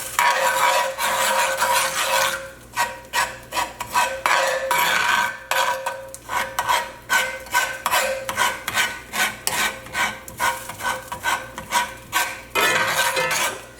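Food being stirred and pressed down in a pan with a utensil while soba noodles are prepared, a steady series of scraping, rasping strokes close up with no talk.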